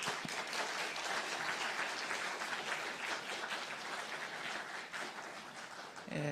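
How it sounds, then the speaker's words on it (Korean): A church congregation applauds steadily to welcome the pastor at a Sunday small-group seminar service, a dense, sustained wash of many hands clapping throughout. "우리 목사님 나오실 때 큰 박수로 환영하겠습니다."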